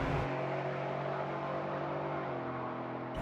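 A 2021 Ford F-150 pickup with a supercharged 5.0L V8 pulls hard in sport mode, its engine note steady and loud throughout with a strong low drone and no voices over it.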